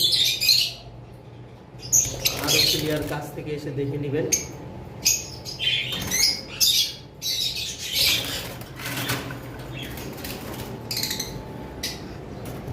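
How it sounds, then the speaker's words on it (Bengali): Caged lovebirds chirp and squawk in short bursts with a flutter of wings, fairly close, while someone talks over them throughout. "এখানে এক জোড়া কম দামি লাভ বার্ড রয়েছে"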